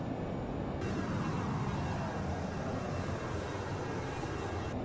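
A Lear 35A jet climbs after takeoff in a flight simulator game, a steady loud engine roar with a high whine held continuously throughout.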